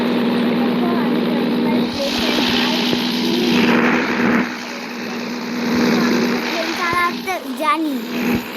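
An airplane in a driving and flying video game drones steadily in the background while a voice talks over it, ending with a few short electronic tones.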